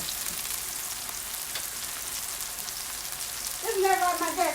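A flour roux cooks in a pan with a soft, even hiss close by, and a louder burst of bubbling sizzle swells near the end.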